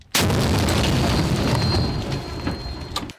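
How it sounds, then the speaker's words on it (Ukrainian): Volley fire from a mounted (tripod) grenade launcher shooting from a rooftop during urban combat at Donetsk airport, heard as a loud sustained rumbling barrage of booms and blasts filling the whole clip, with no speech. "Ось із даху стріляють зі станкового гранатомету."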